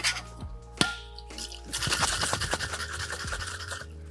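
A cocktail shaker gets a dry shake with egg white for a coffee cocktail: a couple of sharp knocks, then a few seconds of close, rapid sloshing rattles, no speech.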